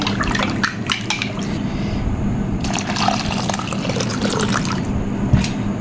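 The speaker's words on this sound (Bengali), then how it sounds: "এবার আমি ঢেলে দিব টক দই মধ্যে ঢেলে দিব এই যে এইভাবে করে অল্প অল্প করে" Sour yogurt is poured little by little into a pot of warm milk in a home kitchen, making a soft, steady liquid sound with faint clinks of utensils, close and continuous.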